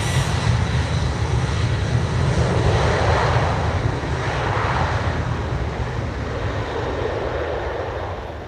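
A Boeing airliner without winglets roars at Lisbon Airport on a windy, cloudy evening, a loud, steady, broadband engine rumble that holds throughout and eases slightly at the end.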